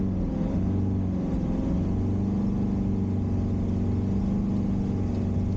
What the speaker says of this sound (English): I've revved the engine really fast to make sure you don't suck any water up into the exhaust